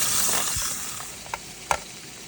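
Fish frying in a pan on a campervan stove, a steady close sizzle with a couple of short scraping knocks partway through.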